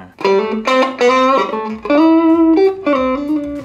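Electric guitar notes and chords ring out with a clean amplified tone from a KAZUKI GO Strat-style guitar, several sustained phrases played in sequence, loud and close.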